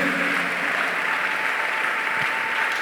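Church congregation applauding steadily during worship, a dense, continuous wash of clapping that fills the space evenly from start to finish with no voices rising above it.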